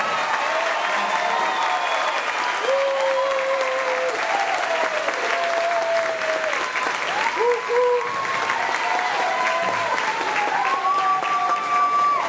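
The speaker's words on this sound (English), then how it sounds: "let's applause our row 1" Steady, dense applause fills the room at a school promotional ceremony, continuous crowd clapping that holds its level while voices and tonal sounds rise above it.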